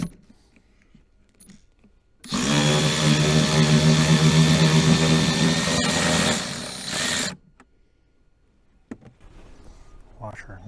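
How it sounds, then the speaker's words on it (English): An electric tool runs steadily for about five seconds, tightening nylock nuts on a pontoon boat's steering console mounting bracket, a close, loud buzzing whir that starts and stops abruptly within quiet surroundings. "Since we've got nylocks in the back side of the mounting bracket for the steering, we'll use an electric tool."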